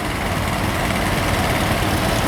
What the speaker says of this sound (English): standard petrol paraffin engine, lovely little tractor in work